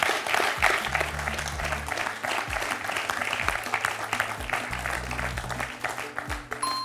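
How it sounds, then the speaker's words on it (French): On the French quiz show Questions pour un champion, the studio audience claps steadily for a contestant, a sustained close patter of applause with a low musical sting underneath. "1 point pour Jérôme, qu'on peut applaudir s'il vous plaît"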